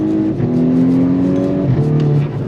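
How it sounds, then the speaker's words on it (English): A VW Golf R Mk6 four-cylinder engine revs loudly and steadily up close, its pitch climbing, dipping briefly, then rising again before falling off, with no voices. "oh, it does sound pretty decent for a 4-cylinder"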